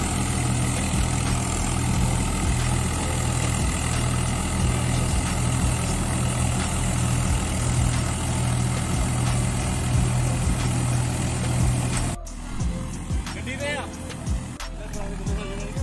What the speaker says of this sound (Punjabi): ਚੱਲ ਰਿਹਾ ਜੀ ਰੀਪਰ ਵਧੀਆ